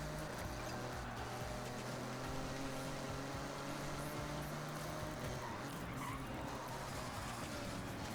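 Cars brake and skid in the Forza Horizon racing game, with steady engine drone and tire squeal running through the whole stretch at a low, even level with no speech.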